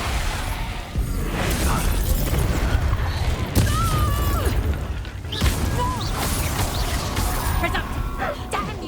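In the video game Hogwarts Legacy, Expulso explosion spells go off as loud, sudden booming bursts, two sharp blasts standing out amid busy combat noise and voices.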